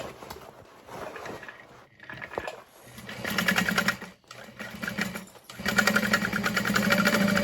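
A sewing machine runs a bag lining seam in several close, moderately loud bursts of rhythmic stitching with brief pauses between them, ending in a longer steady run.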